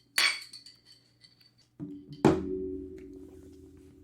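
Drinks glasses are set down on a table during a toast, giving two sharp clinks. Each is followed by a ringing hum that slowly decays in a quiet room.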